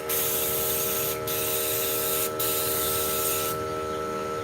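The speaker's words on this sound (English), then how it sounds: "There's a lot of overspray on this one." A Critter sprayer applies Kilz white chalk paint to a vintage armoire wardrobe in a steady, close, continuous spray hiss, broken by two brief pauses and then a stronger burst near the end.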